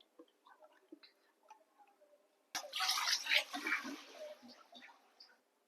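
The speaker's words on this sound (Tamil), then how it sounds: "தேவையான அளவு தண்ணி சேர்த்துக்கோங்க" After a few faint ticks, water pours suddenly and steadily into a heavy-bottomed pot of ground urad dal, a close, splashy rush lasting a few seconds before trailing off.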